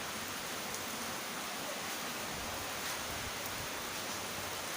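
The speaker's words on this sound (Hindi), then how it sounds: "बारिश जो है बहुत ही तेज़ आ गई है, तो आप सब तो आवाज़ सुन रहे हैं कि कितनी ज़ोर से बारिश गिर रही है" Heavy rain pours down as a dense, even hiss, steady and fairly faint throughout, with no voices.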